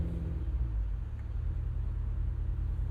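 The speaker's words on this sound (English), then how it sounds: "this area is where we're going to really be able to exercise the noise here of the LT4" Low, steady rumble from the supercharged 6.2L LT4 V8 of a 2025 Cadillac Escalade V idling or creeping in reverse, a continuous deep drone with no talk over it.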